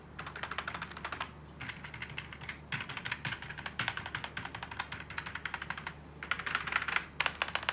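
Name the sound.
typing on FANTECH K611 Fighter membrane gaming keyboard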